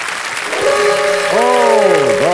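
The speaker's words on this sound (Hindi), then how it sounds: "एक बार फिर जोरदार तालियां बज जाएं के लिए" A quiz show studio audience applauds loudly and steadily while a sweeping tonal music sting rises and bends over the clapping.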